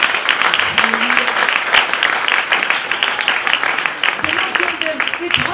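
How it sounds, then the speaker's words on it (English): A church congregation claps and applauds in praise, loud and continuous, with voices calling out over the clapping. "Let's give Jesus Christ a clap."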